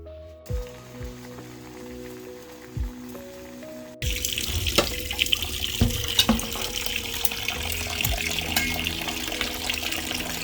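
Water pours steadily from a tap into a sink, a constant splashing rush after a few quiet clinks, close and fairly loud.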